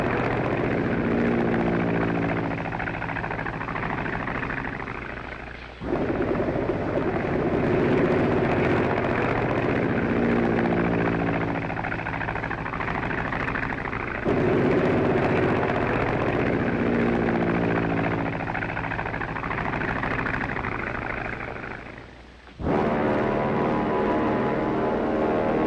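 Propeller airplanes of a 1956 fleet carrying passengers, heard as a loud, steady drone of piston engines and airscrews throbbing without pause, with brief dips in level before the roar picks back up.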